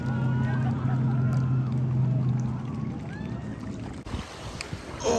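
Lake waves and splashes churned up by a passing boat on Elk Lake, a steady close wash of water and hull noise with a low engine drone that fades midway, while people talk over it.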